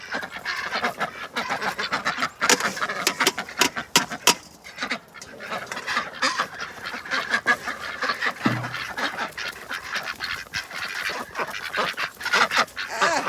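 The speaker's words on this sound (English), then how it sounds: "I'm out here feeding the ducks" Ducks at a farm being fed spinach, peppers and noodles, giving a busy, close chorus of overlapping quacks and honks in irregular bursts, with pecking and rustling between the calls.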